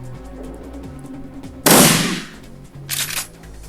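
Gunfire in the video game Shadowrun Returns, with a loud burst of automatic shots followed by a shorter second volley, set over low game music.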